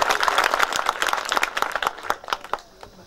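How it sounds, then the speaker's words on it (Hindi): A crowd applauds during a trophy presentation at a zonal school debate competition, dense clapping that thins into scattered claps toward the end. "और जोरदार तालियां इनके लिए।"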